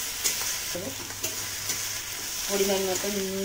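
Chopped garlic and ginger frying in a pan for egg curry, giving a steady bright sizzle with stirring throughout, while someone speaks briefly over it.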